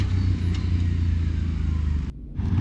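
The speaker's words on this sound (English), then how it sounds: "Now this is one more pull before the clutch kit. Listen to the engine." A CFMOTO CFORCE 800 ATV engine, before a clutch kit was installed, pulls hard under load with a close, loud rumbling drone that briefly dips near the end.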